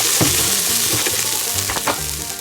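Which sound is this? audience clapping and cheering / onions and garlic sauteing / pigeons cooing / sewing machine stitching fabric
onions and garlic sauteing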